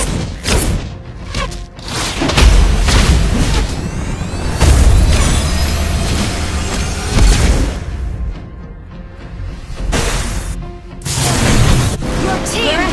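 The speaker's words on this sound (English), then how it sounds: "Your team has destroyed a turret." Turret destruction in a Mobile Legends match, a dense stretch of booms, thuds and bursting pops from combat effects, loud and close, with game voice lines layered in.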